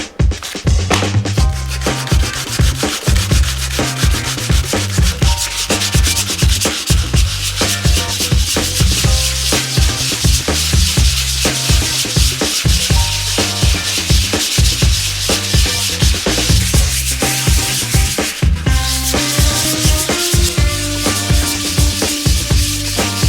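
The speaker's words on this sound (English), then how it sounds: "sanding all these bad spots down" Continuous rhythmic sanding close up on bad spots of a Toyota Supra's car body, strokes rubbing back and forth steadily for the whole stretch with no pauses.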